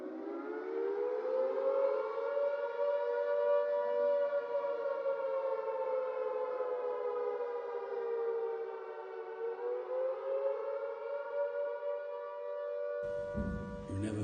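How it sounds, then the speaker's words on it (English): A wartime air raid siren wails loud and steady for more than ten seconds, its tone sagging slightly and rising again, then it cuts off abruptly with a short burst of noise at the end. "You never forget the sound of that siren."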